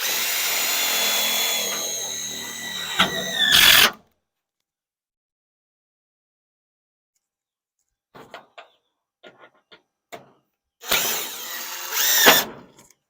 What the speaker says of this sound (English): Not nail it, but screw it down. I'm just using regular roofing